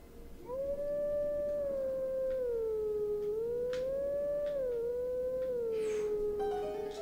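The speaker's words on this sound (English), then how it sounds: "Howl at it." A wolf in Zelda Twilight Princess HD lets out one long, sustained howl that rises and dips in pitch over several seconds, loud and clear with faint clicks behind it.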